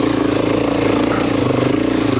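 A Husqvarna FE 501 four-stroke motorcycle lugs along in second gear at low revs on a trail, a steady, loud, throbbing engine drone that holds even throughout without any pauses.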